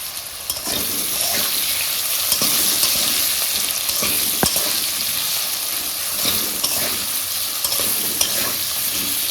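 Halanchi greens fry in a pan with a constant, close sizzle and crackle. Faint scraping stirs and occasional sharp ticks come through steadily, and no voices are heard.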